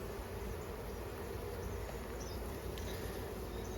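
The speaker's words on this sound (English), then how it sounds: "There's a lot of bees hanging off of it." Honeybees hum in a dense, constant drone around an opened hive frame during a hive check, a soft steady buzz close by with no talking.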